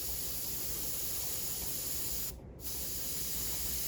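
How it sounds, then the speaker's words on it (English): An airbrush sprays paint onto a Pink Horror tabletop miniature, a steady close hiss that cuts off for a brief moment before resuming. "I'm gonna be spraying on it slightly above center"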